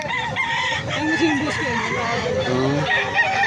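Fighting cocks for sale at a gamefowl market in Angeles City crowing and clucking, several birds calling over one another in a busy, continuous mix with faint voices in the background.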